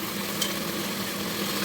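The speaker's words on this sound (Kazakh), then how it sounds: "Етімізді жақсылап қуырып аламыз." Meat fries in oil in a hot cauldron for kuyrdak, giving a faint, steady sizzle with soft stirring and no voices over it.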